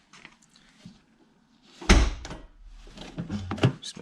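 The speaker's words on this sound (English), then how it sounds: "Just make sure the fuel door and the back hatch functioning properly, which they are." The fuel door and rear hatch of a 1993 JDM FD3S Mazda RX-7 open and shut, a faint click followed by a loud thudding slam and further rattling latch sounds.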